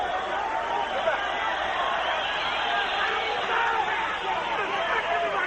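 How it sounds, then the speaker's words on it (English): Boxing arena crowd during a Bernard Hopkins vs Segundo Mercado fight, a steady dense roar of spectators with scattered whistles rising through it, loud and continuous throughout. "Hear the crowd halfway through this round wanting something to happen with the whistles."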